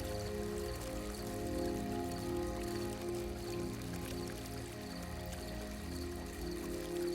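Steady trickle and splash of a fountain pouring water from its centre, soft and continuous at an even level, close by with nothing else over it.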